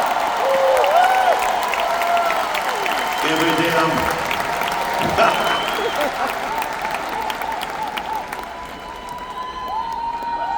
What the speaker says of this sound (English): You better clap your hands and shout